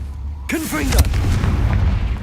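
Confringo fire spell cast in Hogwarts Legacy, a sharp whooshing burst followed by a loud booming explosion with rumbling tail, with a voice shouting the spell.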